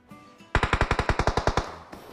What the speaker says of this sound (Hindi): बट तभी गन फायरिंग की आवाज़ होती है